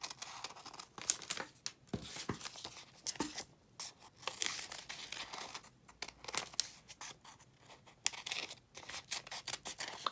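Scissors snipping through several stacked layers of paper to cut papel picado, a Mexican decorative paper banner, in quick close crisp cuts with crinkling and rustling as the paper is turned, quiet and without talk.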